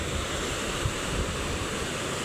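Strong ocean waves crash and roll steadily onto the beach at Tanjung Batu in Brunei, a loud, continuous broadband roar with gusty wind noise over the microphone and no voices.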